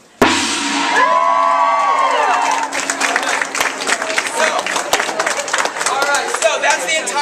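A gong strikes at a classroom presentation and a crowd erupts into loud screaming, whooping and cheering that carries on with rhythmic claps and shouts, the gong's ringing tone fading beneath the noise.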